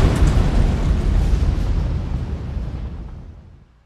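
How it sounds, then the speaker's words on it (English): A violent gas explosion tears through a connected storage tank in an animated industrial safety reenactment: a loud, broad roaring blast that holds steady for a couple of seconds, then fades away with no voices. "Flames shoot through a pipe into the next tank, causing an even more violent explosion."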